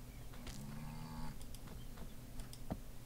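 Cows low in the farming game Staxel, one drawn-out moo near the start followed by quieter short animal sounds and light clicks over a soft steady background, with no talking.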